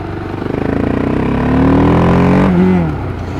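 A 48-horsepower-limited motorcycle engine revs hard and loud up close, its pitch climbing steadily before dropping back, with no talking.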